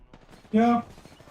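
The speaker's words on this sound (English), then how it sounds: "I missed my first shotgun shot" Shotgun blast in a video game, a single brief harsh burst lasting about a quarter second over faint background.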